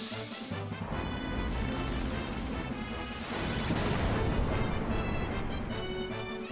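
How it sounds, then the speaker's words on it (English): The Flare spell explosion in Final Fantasy 2 is a long, dense, booming blast with sweeping, rising and falling rumble that swells twice and fills the whole passage, loud and unbroken, with no speech. "now that's the nuclear explosion that I want"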